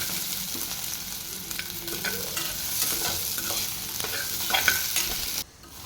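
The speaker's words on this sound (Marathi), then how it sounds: "मध्ये छान असं ना मऊ होईपर्यंत परतत राहायचं" Food sautéing in a pan until soft, stirred steadily with a continuous sizzle and spoon scrapes close by, ending abruptly.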